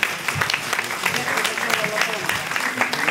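Theatre audience applauding after a staging of Verga's Cavalleria Rusticana, a steady dense patter of clapping that fills the hall throughout, with a few scattered voices mixed in.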